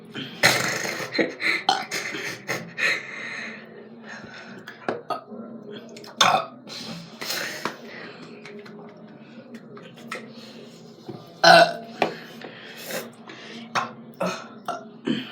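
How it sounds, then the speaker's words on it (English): Repeated loud burps come one after another in irregular bursts, some long and croaky, mixed with brief voices, throat noises and small clicks between them. "it's not a coughing video, it's a burping video"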